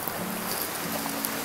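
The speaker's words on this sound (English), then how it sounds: "listen to the water running" A mountain stream running beside a trail campsite, a steady close wash of rushing water filling the clip without pause.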